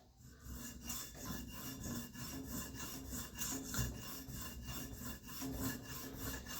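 An EDC knife blade is drawn over a sharpening stone in quick, rhythmic back-and-forth strokes, a steady gritty rasping that repeats many times, quiet and close.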